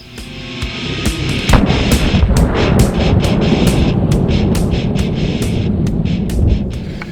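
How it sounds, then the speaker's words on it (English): AK-74 rifle with a red dot sight fires from a bench at 50 yards outdoors. A long run of sharp, loud reports cracks over a heavy rumbling background, with uneven gaps between shots. "put some rounds through it, shoot 50 yards just to get some impressions"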